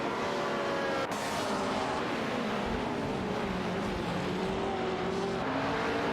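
Race cars overtake each other in a racing video game, their engines roaring loud and close, with a sharp note shift near the start as one car passes.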